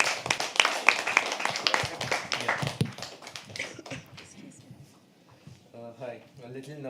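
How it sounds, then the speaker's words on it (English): Audience clapping at a live poetry open mic, a few seconds of close, brisk handclaps that thin out and fade as a voice begins speaking. "Keep clapping."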